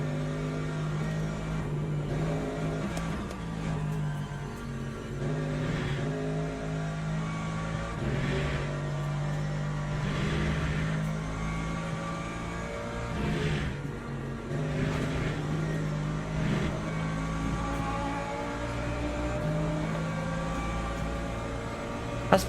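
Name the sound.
LMP2 race car engine in Le Mans Ultimate video game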